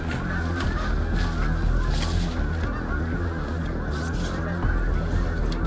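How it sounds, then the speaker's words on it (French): Geese honk as they fly in over a hunting setup, a dense and loud overlapping chorus of calls that carries on steadily throughout. "les oiseaux continuent d'arriver"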